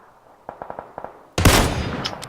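One loud, sharp sniper rifle shot, a Kar98k in a battle royale video game, ringing out after a series of soft clicks, with a rattling tail as it fades.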